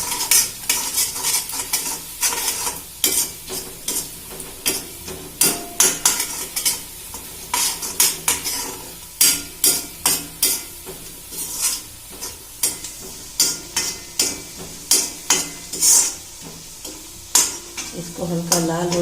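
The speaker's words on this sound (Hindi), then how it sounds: "और इसको हल्का गुलाबी होने तक चलाते रहेंगे।" Poha ingredients frying in a pan with a little salt, stirred until lightly pink: a soft steady sizzle under repeated sharp scrapes and clinks of a spoon against the pan, fairly close, with no voices.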